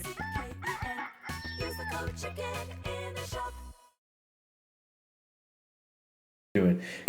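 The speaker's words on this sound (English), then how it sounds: "the chicken is here." A chicken crowing sound effect gives a loud, drawn-out cock-a-doodle-doo for several seconds, then falls silent before a short loud burst at the very end.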